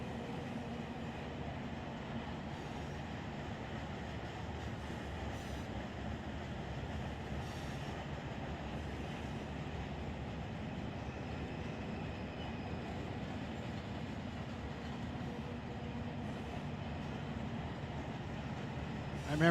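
A freight train in the Run 8 railroad simulator rolls past with Hydro Cushion boxcars, a steady low rumble of wheels and cars at modest level, continuous and even throughout.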